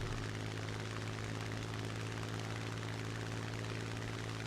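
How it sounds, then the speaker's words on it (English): Engine of a Yak-1B propeller fighter in a realistic-battle flight game, a dense continuous droning roar with a steady low hum, loud and unbroken throughout. "And they are flying the Yak 1B."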